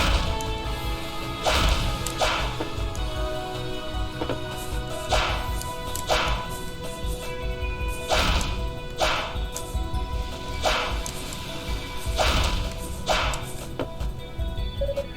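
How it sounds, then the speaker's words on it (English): A jumping fire wave attack from Ys VI strikes repeatedly with sharp whooshing whip-like bursts at irregular intervals, set over a continuous game music bed, loud and close. "a jumping version of the fire wave move"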